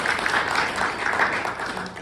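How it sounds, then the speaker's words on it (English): Guests at a networking breakfast give a short round of applause, an even patter of many hands clapping. "round of applause"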